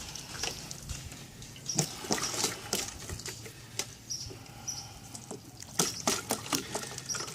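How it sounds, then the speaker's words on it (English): A gallon of water is poured through a drain while rinsing home brewing equipment, giving a steady close splashing and trickling with scattered patters and gurgles throughout. "I'm going to put a gallon of water through the drain"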